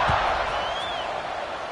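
Football stadium crowd buzzing after a kickoff following a score, a dense, steady roar of many voices filling the space, with a faint whistle-like tone rising and falling briefly in the middle.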